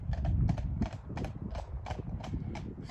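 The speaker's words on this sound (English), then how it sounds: "One guy taking 2 horses up the road." Two horses' hooves clip-clop on a hard road at a steady walking pace, about eight distinct strikes, moderately close, with a low rumble underneath.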